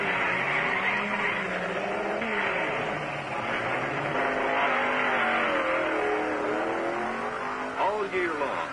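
A drag racing car engine revs and roars loudly, its pitch rising and falling in sweeping bursts, with a voice talking over it.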